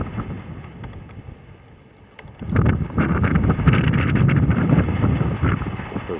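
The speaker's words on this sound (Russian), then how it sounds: "На улице метель." Blizzard wind blowing outdoors in winter, a rough, gusty roar buffeting the microphone that grows louder halfway through and keeps surging, with no voices.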